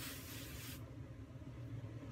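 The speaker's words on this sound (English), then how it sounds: "I'm gonna, of course, spray it again" A can of hairspray gives a short, close, steady hiss over freshly teased, voluminous hair, then drops to a softer spray. No voices are heard.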